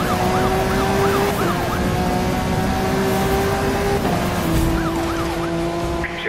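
A police siren wails continuously during a car chase in Need for Speed Rivals, with repeating rising and falling sweeps over a loud roaring engine, close and dominant the whole time.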